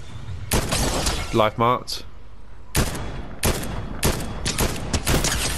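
Bursts of gunfire in the Fortnite video game, several rapid volleys and single shots spread across the clip, loud and close, with players talking over the shooting.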